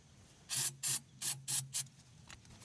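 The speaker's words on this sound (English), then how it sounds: "So I'm gonna spray this starting fluid in there" Five short hissing bursts of starting fluid spray into the engine of a 2002 Chevy Silverado with a crank-no-start fault, close and crisp, separated by brief pauses before a faint trailing hiss.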